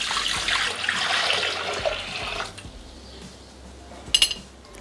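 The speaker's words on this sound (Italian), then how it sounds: "Iniziamo la ricetta mettendo all'interno del boccale l'acqua." Water pours into the jug of a Thermomix TM6 kitchen machine, a bright splashing stream for about two and a half seconds, then quieter handling and a short clattering knock near the end.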